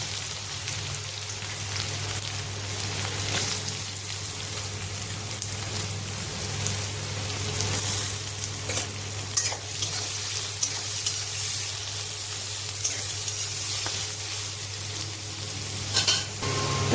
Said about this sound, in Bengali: এবার এই তেলেই পেঁয়াজটা ফেরেস্তার মতন ভেজে নেব।